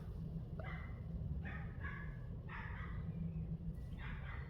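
Several dogs bark in the distance at dusk near a wild campsite, faint repeated yips in loose clusters over a steady low rumble of background noise.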